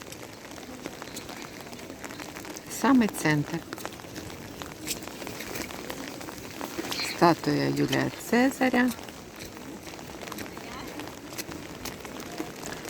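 Steady rain falls on the streets and puddles of a square in Rimini, a constant soft hiss throughout while someone talks over it.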